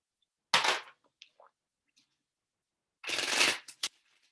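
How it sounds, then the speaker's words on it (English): Tarot cards are riffle-shuffled twice in quick bursts, low down to muffle them, with soft taps and clicks between, close and fairly quiet. "it's like I'm trying to muffle the sound of the shuffling"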